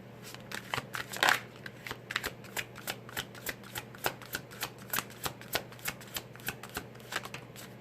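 Tarot cards are shuffled and laid out close by, giving a long run of quick, regular crisp snaps and flicks. The sound is moderately quiet and there is no speech.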